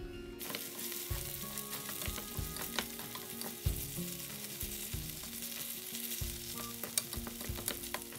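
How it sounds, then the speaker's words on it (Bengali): Onions frying in a pan for salmon kabab give a steady, close sizzle that runs the whole time, broken by the repeated clatter and scrape of stirring. No one speaks. "কিন্তু আমি এখানে এখন মাছ পেঁয়াজটা ভেজে নিচ্ছি, এই ভাজা পেঁয়াজটাই আমি মাছের মধ্যে দেব।"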